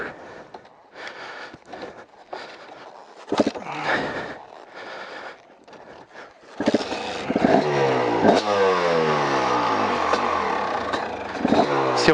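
KTM enduro motorcycle engine that struggles to start, sputtering in short bursts before catching and revving steadily with rising and falling pitch, close and loud in the second half.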